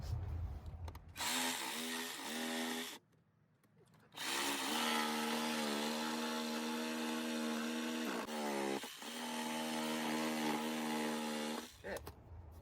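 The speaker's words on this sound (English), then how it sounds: "So we're going to come back with a jigsaw and trim this out a bit." A power jigsaw trims an opening to fit a plastic gas dryer collar, its loud buzzing motor running in long steady stretches, with a short pause and a brief stop near the end.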